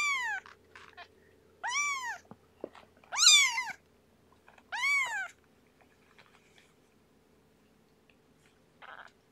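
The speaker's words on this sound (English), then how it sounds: "while they're meowing and walking around" Young kittens meowing up close, four clear high-pitched rising and falling cries spaced a couple of seconds apart, with a fainter short mew near the end over a quiet background.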